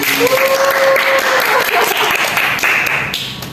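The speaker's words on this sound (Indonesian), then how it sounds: "Tepuk tangannya mana teman-teman?" Applause from a school audience during a podcast at SMA Negeri 1 Limbangan: loud, dense clapping from many hands, sustained and fading slightly at the end, with faint voices underneath.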